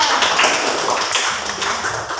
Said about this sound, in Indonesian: Safina, tepuk tangan untuk Safina.